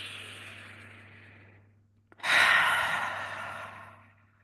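A long slow exhale trails off into a brief pause, then a deep, loud inhale follows and gradually fades, close up and with no talking.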